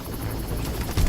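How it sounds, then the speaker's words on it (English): A helicopter in the video game Far Cry gives off a low, throbbing rotor rumble, close and steady for a moment before a brief heavier thump at the end. "Another helicopter?"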